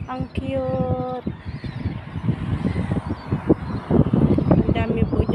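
Wild geese on a sunny summer walk in Tornio, Finland honk repeatedly in short, clear calls near the start, and people talk over the birds for the rest of the clip.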